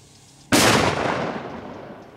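A paper-cased Torpedo dextrin firecracker goes off with one sharp, loud bang at close range, followed by a decaying roar of echo and debris over about two seconds.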